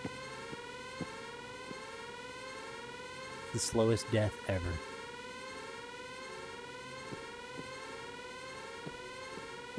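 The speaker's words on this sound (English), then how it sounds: "We're just gonna sit in here and listen to this alarm." An alarm in the VR video game Of Lies and Rain blares steadily throughout as a repeating, layered electronic tone, while someone speaks over it partway through.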